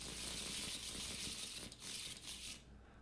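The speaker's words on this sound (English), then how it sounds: "These are the new cards. We will shuffle those." Arkham Horror board game cards being shuffled by hand, a steady close riffling rustle and flutter for about two and a half seconds before it stops.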